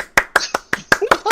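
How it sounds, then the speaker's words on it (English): Seven crisp, evenly spaced hand claps ring out at an awards show, sounding like a single person applauding close up rather than a crowd. "Wait for applause."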